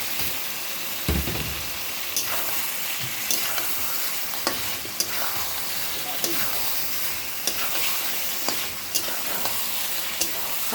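Meat sizzles steadily in a hot pan as fried potatoes are added, with occasional scraping and clinking of a utensil stirring it, close and continuous.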